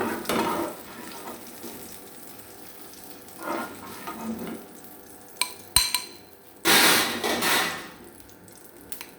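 Egg sauce with tomato, pepper and onion frying in a pan, a low steady sizzle broken by bursts of louder spatter and stirring, plus a sharp clink of a utensil; close, no talk.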